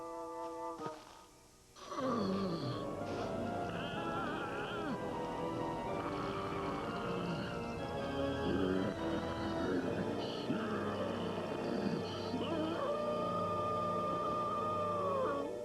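In a French-dubbed cartoon, a werewolf lets out a long, eerie, wailing howl that rises and wavers for several seconds over a full, dense bed of dramatic background sound.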